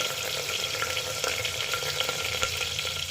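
Green chili, garlic and curry leaves fry in the tempering for dal khichdi, a dense close sizzle with stirring clicks and scrapes through the whole stretch, no voices.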